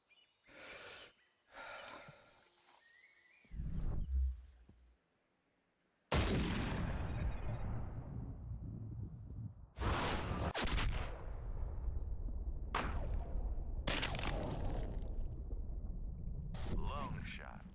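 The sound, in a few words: rifle shot while hunting in a video game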